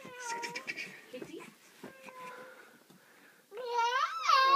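A house cat meows near the end, a loud rising cry following quieter babbling and chatter from a small child indoors.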